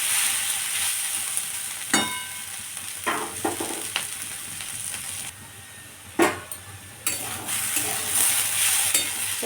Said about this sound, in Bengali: এবার এটা গ্যাসটা বাড়িয়ে এটা ভালো করে ভেজে নিতে হবে।